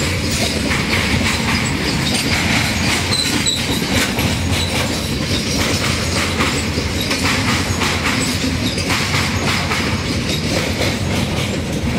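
Train crossing the Madhupur rail bridge on the Hashkhawa line, a steady loud rumble with continuous clickety-clack of wheels over the track and occasional wheel squeal, running without a break and with no voices.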